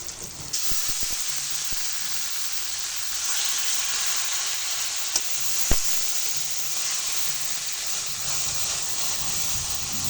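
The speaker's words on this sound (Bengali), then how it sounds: "এবারে ইলিশ মাছের মাথাগুলো দিয়ে দেব।" Hilsa fish heads frying in oil with onions, a loud, steady, close hissing sizzle that runs the whole time, with a few light clicks of a utensil, no talk.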